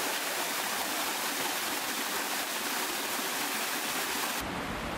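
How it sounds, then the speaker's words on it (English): A waterfall at Mitsumine Shrine in Japan roars in a steady, dense rush of falling water, loud and continuous with no voices. "This legendary waterfall, known as Kiyoshi no Taki Mitsumine San, is closely associated with Kyokushinkai Karate."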